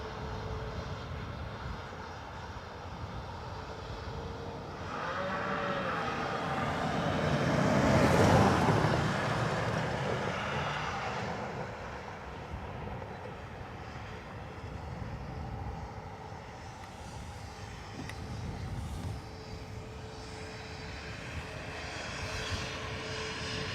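Airliner fitted with winglets at Dublin Airport, its engine roar swelling to a broad peak as it passes side-on, then easing into a steady background rumble with no talking.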